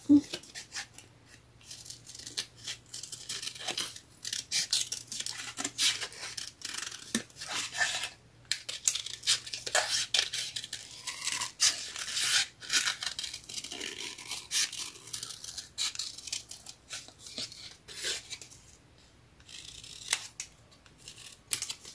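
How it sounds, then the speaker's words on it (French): Scissors snip through a scrapbooking sheet during a stamping and die-cut craft session, a run of quiet, close crisp cuts and rustling paper repeating irregularly throughout, with faint handling noises between. "la dernière planche, là, je vais la couper là"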